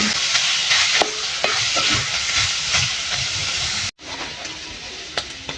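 Beef steak tagalog is stirred in a pan over a loud, continuous hissing sizzle, with occasional utensil scrapes and taps; the sound briefly cuts out, then resumes, no talking.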